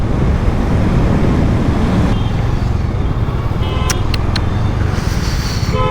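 Busy Delhi road traffic heard from a moving motorbike: a steady, loud roar of engines and wind rumble, with a few short high beeps near the end.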